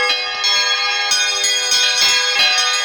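A temple bell at a Shiva lingam rings loudly and repeatedly in quick, steady strikes, its bright sustained tone hanging between hits.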